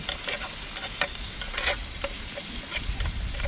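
Pork fat sizzles and crackles steadily in a frying pan, with scattered pops and a soft scrape or stir now and then, heard up close.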